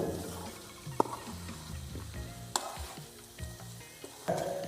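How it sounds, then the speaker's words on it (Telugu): Raw masala spices sizzle and fry in a pot for a hill goat mutton curry, a constant close crackle with occasional sharp clanks and scrapes of stirring against the metal. "పచ్చి మసాలా మొత్తం బాగా వేగిందే"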